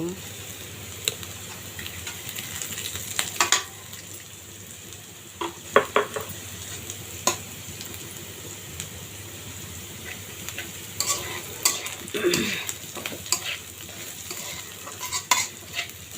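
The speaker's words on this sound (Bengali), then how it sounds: "এখন আমি জিরা তেলানি দিব এই তো আস্ত জিরা আমি তেলানি দিব" Whole cumin seeds tempered in hot oil in a pan, a constant close sizzle with scattered pops and the scrape and clink of a stirring utensil, a voice speaking at times.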